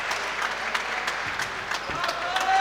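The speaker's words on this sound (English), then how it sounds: "But it's Éanna's bench that applaud" A basketball team bench applauds during a Super Series game between DCU Saints and Commercial.ie Éanna, scattered sharp claps over steady crowd noise, with a commentator talking over it.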